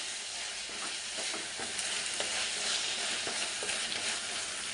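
Tomatoes fry in a pan with a steady, dense sizzle that holds at an even level, broken now and then by soft stirring scrapes, and no voices are heard.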